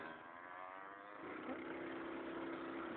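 A motorcycle engine idles and revs at medium pitch nearby, a steady rough hum that grows slightly louder partway through, with no talk over it.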